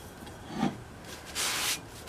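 A dry cloth rubs rust remover off metal in a short, soft wiping stroke, then a longer, brighter swipe follows.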